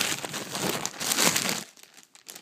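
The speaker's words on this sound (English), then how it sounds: "If you guys don't like the noise of the sound of the crinkling paper," Paper packaging around a Pom Pom Purin plush crinkles and tears as it is opened, a loud continuous rustle up close for about a second and a half before it drops to a few faint rustles.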